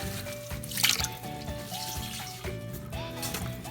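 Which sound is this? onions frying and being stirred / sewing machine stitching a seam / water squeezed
water squeezed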